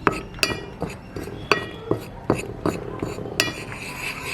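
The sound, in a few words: mixing egg batter with chilli powder, salt and pepper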